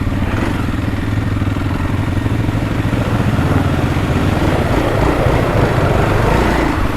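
A motorcycle rides along an old dirt road at Khao Rabert, its engine a loud, continuous close-up drone with a rattly, uneven texture throughout and no speech.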